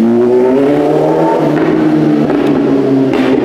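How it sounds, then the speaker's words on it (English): A BMW S1000 motorcycle fitted with an aftermarket exhaust but no matching tune revs steadily and loudly nearby on a city street in District 1, its engine note rising and wavering throughout. "S1000 that needs a tune. It's got an exhaust on it, but doesn't have a chip"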